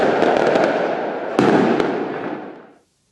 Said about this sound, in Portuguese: o enterro seguiu com uma grande queima de fogos